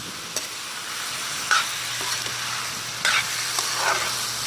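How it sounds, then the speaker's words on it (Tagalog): A spoon stirs sipo egg, a Kapampangan fiesta dish, in a hot pan, with steady sizzling and a few distinct scraping strokes over a constant frying hiss. "Halo-haloin lang natin."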